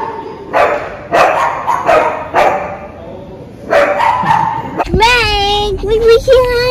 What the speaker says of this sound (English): These 2 dogs playing.